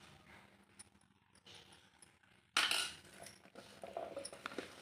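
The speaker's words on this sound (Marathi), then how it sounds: "आणि आता यामध्ये मिक्स करून घेऊया आपण." A spoon stirring carrot and chilli pickle in a metal bowl, soft clinks and scrapes, with one louder clatter midway, quiet and close.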